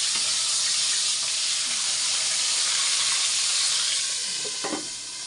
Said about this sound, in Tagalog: nagpiprito ng aking asawa ng isda